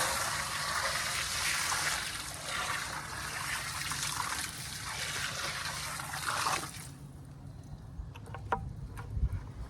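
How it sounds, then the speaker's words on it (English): A bucket of water pours over a campfire, giving a steady broad rushing hiss and trickle for several seconds, then stopping into quieter crackles, drips and faint outdoor noise. "I'm gonna take this bucket of water, and I'm just gonna pour it over the campfire"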